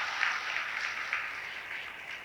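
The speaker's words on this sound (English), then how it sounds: "You can give me a good round of applause for that." A round of applause from an audience at a school student council investiture ceremony, distant and faint, even clapping with a few louder claps, fading slightly toward the end.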